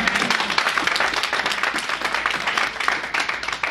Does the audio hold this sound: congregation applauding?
yes